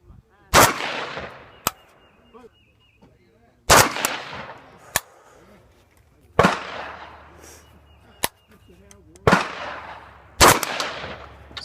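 A Zastava M90 rifle fires single shots at a target outdoors, with sharp, loud cracks spaced a few seconds apart. Each crack rolls off into a long echoing tail.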